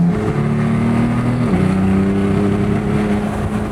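A cold Lamborghini with over 100,000 km on it, its engine warming up: a loud, steady, close-up idle with layered harmonic drone and a brief dip in revs midway before settling back, with no voices.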